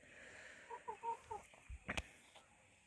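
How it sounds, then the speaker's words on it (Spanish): A few short, soft clucking calls from roosters in a quiet outdoor setting, followed by a brief sharper sound. "Acá tenemos un par de gallos bastante interesantes."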